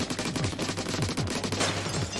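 Weapon fire in Splatoon 2's Octo Expansion: a rapid, continuous stream of shots with repeated squelchy pops over a steady, droning loop, loud and close.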